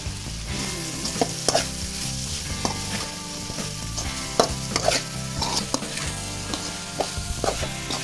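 Veg fried rice with tomato sizzles in a hot pan while a utensil stirs and scrapes through it, steady frying hiss under repeated clinks and scrapes, close and without speech.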